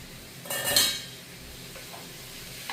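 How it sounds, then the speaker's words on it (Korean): Cucumber stir-fried over high heat in a pan gives a brief loud sizzling hiss with a scrape of stirring, then a soft steady sizzle fading into quiet kitchen background, no voices. "이렇게 해서 센 불에 볶으면 됩니다."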